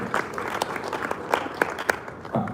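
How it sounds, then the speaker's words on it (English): A hotel event audience gives a round of applause for Dr. Stephen Akintayo, a brief burst of many hands clapping at moderate volume with a few sharper claps standing out, no voices over it. "One more time, please, a round of applause for him."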